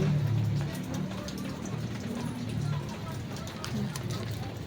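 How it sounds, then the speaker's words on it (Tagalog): Steady patter of rain on a surface, with faint low voices murmuring underneath throughout. "Umuulan."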